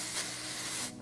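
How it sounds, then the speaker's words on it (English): A can of dry shampoo sprays onto hair underneath at the neck, a single close, steady hiss that lasts about a second before stopping. "Just give it a nice spray underneath."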